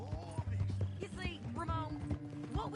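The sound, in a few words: horse hooves clip-clopping in the video game Red Dead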